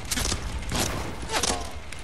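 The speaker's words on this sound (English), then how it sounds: "Oh, we're getting shot." Bursts of gunfire aimed at players in a video game, a few sharp rattling volleys close together, with faint voices.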